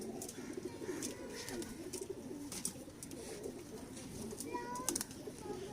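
Pigeons coo softly and steadily in a loft, a low murmuring chorus with scattered wing flutters and occasional light chirps, while someone talks over them.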